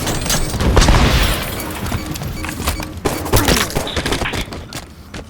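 Enemy gunfire in a Halo match, rapid dense bursts of shots and booming impacts rattling on and off over a few seconds.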